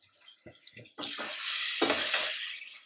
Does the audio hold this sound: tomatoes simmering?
yes